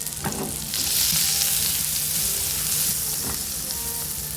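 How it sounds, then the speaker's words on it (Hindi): Chopped garlic cloves sautéing in butter in a pan for an omelette, a bright, steady hissing sizzle that swells after the first second, with a few light utensil taps, close by and no voices. "तो थोड़ा सा सौते करेंगे।"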